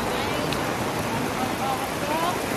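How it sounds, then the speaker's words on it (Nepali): Rain falls steadily at a Nagarkot suspension bridge, a dense, even patter of drops on surfaces all the way through, with faint voices underneath. "पानी परेर कस्तो गाह्रो भयो,"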